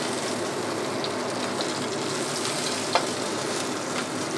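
Freshwater perch pan-frying over low heat, a steady close sizzle with light crackle and one small pop, no talking.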